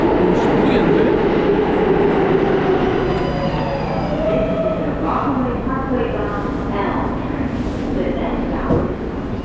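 A New York subway train rumbles steadily throughout, a loud continuous roar of wheels and carriage noise with faint squealing tones, while muffled voices talk underneath.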